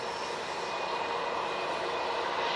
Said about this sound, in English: Beautiful Embraer Legacy.